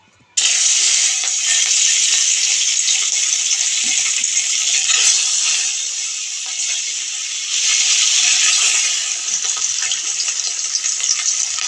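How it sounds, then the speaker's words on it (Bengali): Fish frying in hot white oil in a wok, a loud, steady hiss and crackle that begins abruptly and runs on without a break, easing briefly in the middle before swelling again. "তেলটা আমার গরম হয়ে গেছে। মাছ দিয়ে দেবো।"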